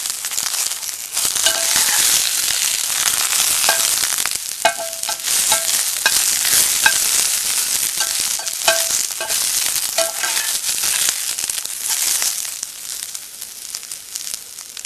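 Brussels sprouts roasting in oil in a pot give a loud, dense, continuous sizzle and crackle up close, with occasional stirring scrapes throughout.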